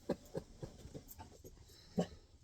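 A dog lying on a couch gives a series of faint, soft barks and yips, a few quick sounds then another after a short pause, heard close in a quiet room.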